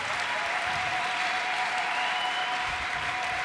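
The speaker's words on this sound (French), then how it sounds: "Applaudis très bien le Seigneur des Seigneurs" Congregation applauding in a church during a mass prayer service, a dense steady wash of many hands clapping that fills the whole stretch at an even, fairly loud level.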